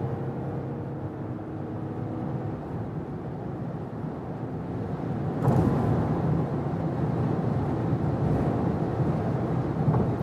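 A BMW 7 Series G70 M Sport accelerates hard on the German Autobahn, heard as a steady, muffled cabin roar of road and engine noise that swells slightly louder partway through, with no talking.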